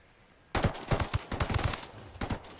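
Close gunfire from the video game Ghost War: a string of sharp, loud shots in uneven bursts, some quick doubles, with a short pause near the end before more shots follow.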